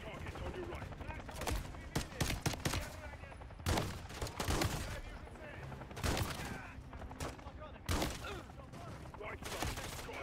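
Fire shotgun blasts in a Modern Warfare campaign firefight, loud sharp reports in irregular clusters of several shots with short gaps, close and punchy, with faint talk between them.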